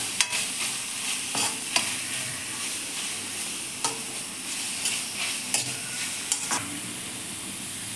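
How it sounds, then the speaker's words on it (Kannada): Ulikal soppu greens with a little grated coconut frying in oil in a pan, a steady soft sizzle broken by repeated scraping taps of a spoon stirring, close and alone. "ಚೆನ್ನಾಗಿ ಫ್ರೈ ಮಾಡ್ಕೊತಾ ಇದ್ದೀನಿ."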